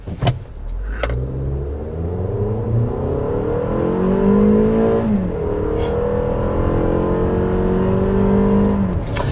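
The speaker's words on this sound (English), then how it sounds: "But let's do a launch here and see how the RAV4 handles." A 2022 Toyota RAV4 Limited AWD in sport mode, floored from a standstill in a full-throttle launch: the engine climbs in pitch, shifts, then climbs again under load, loud and close from inside the cabin.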